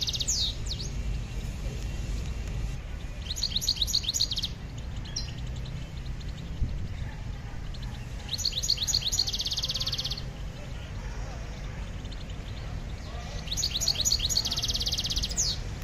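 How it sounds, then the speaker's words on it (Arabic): Young goldfinches at a Moroccan bird market chirp in short high bursts of rapid twittering that come and go every few seconds, over a steady low crowd and market rumble. "نسمعوكم الكلام ديال الطير والخزانه ديال الطير"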